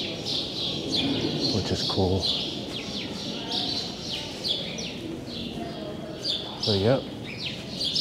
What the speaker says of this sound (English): You can like hear all the birds nesting in the ceiling,